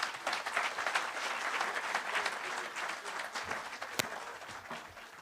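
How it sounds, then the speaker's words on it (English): A town hall audience claps warmly for a speaker, dense and fairly close applause that holds steady for several seconds, with one sharp louder clap near the end. "A round of applause for her."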